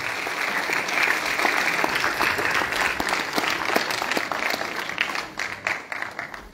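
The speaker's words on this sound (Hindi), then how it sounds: "एक बार फिर से सभी के लिए बहुत ही जोरदार तालियां दीजिए सर।" Audience applause in a convention hall at a National Energy Conservation Day event: dense, sustained clapping from a crowd, fairly loud and steady, thinning into scattered claps near the end.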